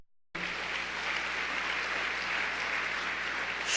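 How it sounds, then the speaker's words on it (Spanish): A church congregation bursts into loud, sustained applause after a short silence, a dense steady clatter of many hands that carries on to the end without any voices. "Dale un fuerte aplauso al Señor."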